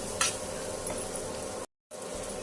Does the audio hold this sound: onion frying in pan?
yes